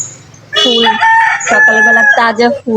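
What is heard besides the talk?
rooster crowing nearby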